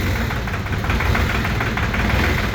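A diesel engine idles indoors on gelled fuel, running rough with a dense, steady knocking rumble that stays loud and unbroken throughout.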